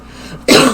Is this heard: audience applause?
no